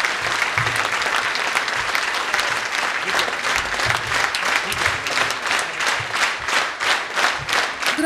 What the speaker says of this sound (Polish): Gromkie brawa i owacje na stojąco.